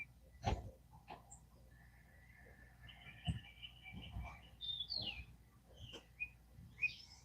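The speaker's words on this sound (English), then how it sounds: "it's so nice to have the birds singing" Birds chirp and whistle at dawn under an overcast sky, with scattered short calls and brief trills rising above a low background hum, moderately near and never loud.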